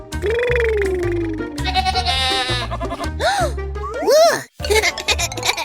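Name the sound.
goat bleating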